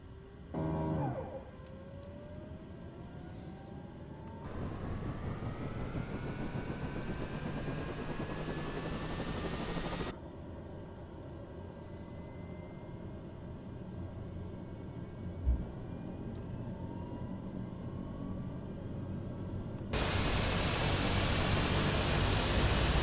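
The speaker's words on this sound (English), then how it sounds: "We are going to do left engine on." The left engine of a plane in Microsoft Flight Simulator 2020 spins up, a steady turbine whine rising in pitch over a constant roaring drone, with abrupt jumps in level as the sound cuts between sections, no talking.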